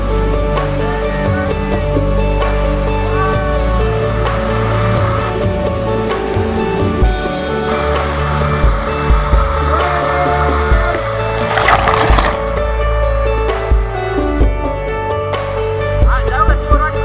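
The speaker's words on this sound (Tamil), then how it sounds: "இதில் வழிஞ்சு ஊற்றுற தண்ணி பார்க்கவே அவ்வளோ அழகாக இருக்குது." Rainwater pours steadily over the Ottiyambakkam check dam waterfall in Chennai, a loud, continuous rushing roar that stays constant throughout.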